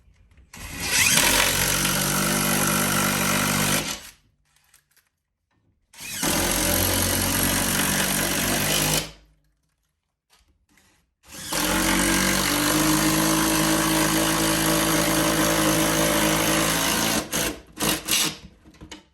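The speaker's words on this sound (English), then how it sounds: "So you're going to put the rest of your screws in. With your 13 socket." A power tool drives screws with a 13 socket while an electrical outlet is moved to hide TV cords, running in three long loud bursts separated by short silent pauses.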